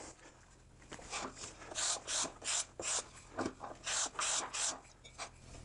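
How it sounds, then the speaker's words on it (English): A sharpened putty knife scrapes mill-mark ribs off a wooden board, giving a series of short, rasping strokes in a steady rhythm, close and fairly quiet. "a sharpened putty knife is a whole lot faster at removing those ribs than sanding"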